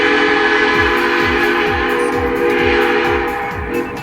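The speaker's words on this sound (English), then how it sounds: "trains were powered by steam engines that had distinct sounding steam whistles instead of horns" A steam locomotive's whistle sounds as a sustained, loud, multi-toned blast. Rhythmic chuffing from the engine pulses steadily underneath, and the whistle tapers off near the end.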